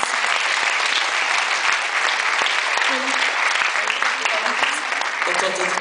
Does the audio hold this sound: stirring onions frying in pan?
no